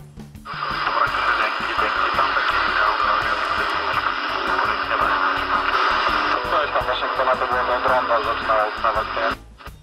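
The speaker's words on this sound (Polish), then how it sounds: "Posłuchajmy, jak działa ten radiotelefon." A CRT Super Star 3900 CB radio transceiver receives a transmission, its loudspeaker carrying a continuous, steady stream of band-limited, radio-filtered voice talk with a constant hiss bed throughout.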